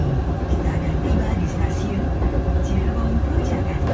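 The Progo executive-class train running on the rails between Jogja and Jakarta near Cirebon, heard from inside the carriage as a steady, loud rumble of wheels and track, with faint talk underneath.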